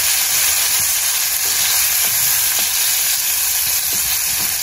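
Onion and garlic frying in very hot dendê palm oil for farofa: a loud, continuous, close-up sizzle with faint crackles and no pauses.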